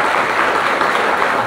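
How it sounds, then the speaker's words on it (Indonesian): Students at an Islamic boarding school clap together in a thick, even roar of hands, loud and unbroken across the short stretch, with no voice standing out. "Tepuk tangan untuk Nurul Amin semua."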